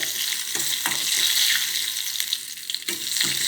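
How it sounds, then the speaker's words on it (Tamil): Black pepper and cumin frying in hot ghee give a steady, close hiss and sizzle with a few sharper crackles, continuous and without talk. "நெய் காஞ்சிடுச்சு நான் வந்து மிளகு சீரகம் நல்லா பொறிச்சு எடுத்துக்கிறேன்"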